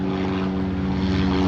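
Rotor aircraft droning steadily overhead above Barra, a continuous low, even hum holding at moderate loudness throughout with no voices.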